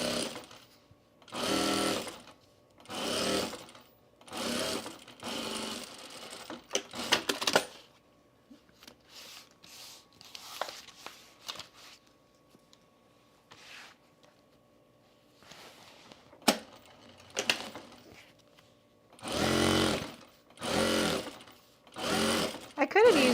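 Sewing machine stitching binding onto the right side of a boxy fabric bag, running in several short rapid bursts with pauses between, loud and close, with some quieter handling in the gaps.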